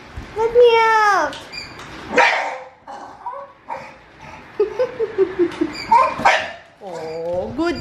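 A puppy yips and barks in short high-pitched bursts with whimpering, close by, mixed in among excited human voices at an indoor party.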